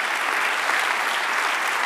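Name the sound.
audience applause in church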